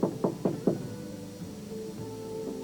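Four firm knocks on a door in quick succession, close and distinct, followed by a low background hum of music with no voices.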